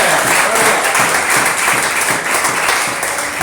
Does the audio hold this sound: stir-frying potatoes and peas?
no